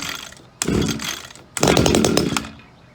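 Two sharp pulls on an Echo SRM-2400 string trimmer's recoil starter, each a brief ratcheting sputter as the small engine turns over without catching.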